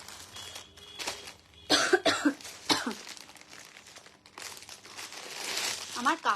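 A woman coughs several times in short harsh bursts, close by, with crinkling plastic and quiet talk around her in a saree shop.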